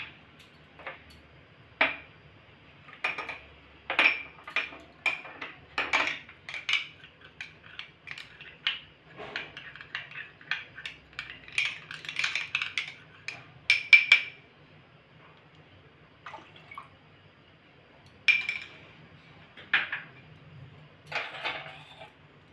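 A spoon stirs cornflour into milk, making quiet, irregular light clinks and taps against the bowl in scattered clusters.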